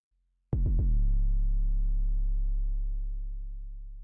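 A single deep 808 bass note hits hard with gritty distortion, its low boom sustaining and slowly fading over about three and a half seconds.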